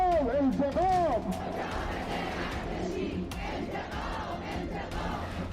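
A huge crowd chants in the streets of Iran: one loud voice shouts at first, then a dense, steady roar of massed voices fills the rest, close and continuous.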